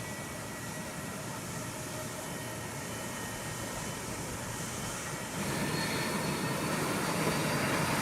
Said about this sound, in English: This Astro Air McDonnell Douglas MD-80 engages full reverse thrust to pull away from its parking stand.